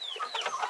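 Homestead chickens, nearly full grown, give a few short soft clucks and chirpy calls at close range, fairly quiet and with no voices.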